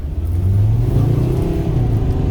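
A VW Transporter T5 van with a 2.5-litre 174 hp engine drives and accelerates, its mid-pitched engine droning loud and steady from inside the cabin with no one speaking.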